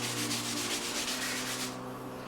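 A soldering iron stand is rubbed clean with a cloth and white spirit in quick rhythmic scrubbing strokes, close and fairly loud, then stops near the end.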